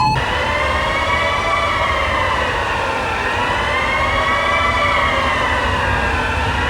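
A loud fire alarm siren wails aboard a ship during an engine room fire, a steady rising and falling electronic tone that runs continuously, close and dominant, over low mechanical rumble.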